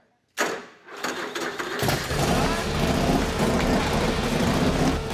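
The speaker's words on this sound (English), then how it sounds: "You start that thing up, the exhaust sounded amazing" A custom Alliance chopper motorcycle engine fires up with a sudden burst, then settles into a loud, rumbling exhaust idle with a deep, throaty roar that holds steady close by.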